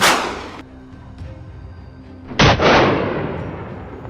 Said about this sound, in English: The gunfire echoed through the air,